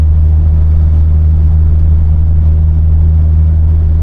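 Steady low engine drone from a Ford Thunderbird Super Coupe under smooth acceleration, heard from inside the car as a continuous deep hum with no talk over it.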